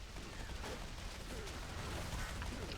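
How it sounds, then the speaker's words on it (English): Cannon firing flak at mobs in the Spiral Knights video game, a dense burst of overlapping blasts and crackling explosions filling the short span, loud and continuous. "I got over in this cannon, and then was finally able to take out all these mobs with some of the flak"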